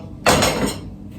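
Dishes clink as plates of onion rings, nuggets and fries are set out at home, one short clatter of crockery followed by softer handling sounds.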